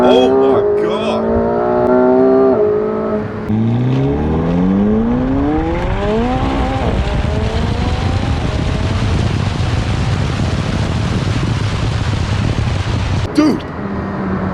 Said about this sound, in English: That was 110 miles an hour and we just tapped the gas.